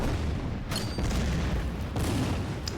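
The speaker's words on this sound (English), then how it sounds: "We're going to start hitting those guys with mortars." Mortar fire in the World War 2 strategy game Order of Battle: heavy booming blasts with dense rumble, two sharp impacts standing out over a continuous low roar, loud and close, with no talking.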